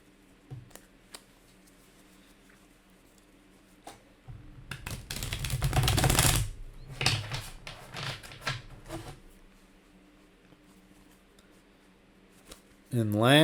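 A deck of cards is riffled close up in a dense crackling burst, with scattered taps and clicks before and after, then a brief sharp rustle.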